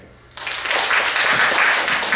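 An audience at a university case competition bursts into applause after a brief quiet, a dense, loud clapping that fills the room and holds steady.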